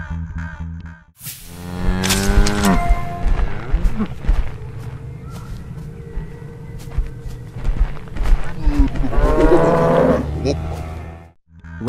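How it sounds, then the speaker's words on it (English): The Friendly Cow monster from the video game Zoonomaly moos loudly in long, drawn-out, distorted calls, two big lowing bursts framing a sustained middle stretch, close and alone. "Exactly, it's Friendly Cow."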